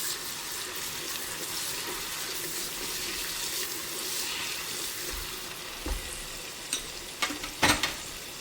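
Sliced onions sizzle in hot oil with raisins and cashews in a pot for biryani, a steady bright frying hiss throughout, with a few dull stirring knocks toward the end.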